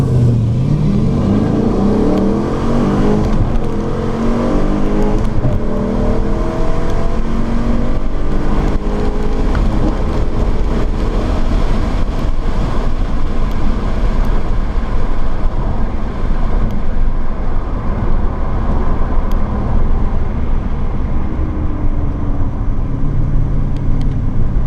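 A cammed Dodge Challenger R/T races a stock 392 and a stock R/T from a launch, engines roaring loud and close, pitch climbing through the gears in a sustained rising drone with no talk.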